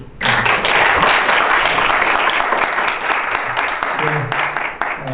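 An audience at a Korean academic forum claps for two presenters at the close of a Q&A session, dense steady applause loud and close throughout after a brief start, with a voice speaking over it.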